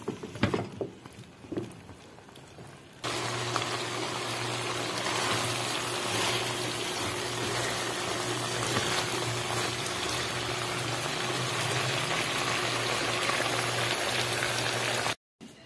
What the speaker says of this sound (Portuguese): E aí vou deixar cozinhar o pequi, gente.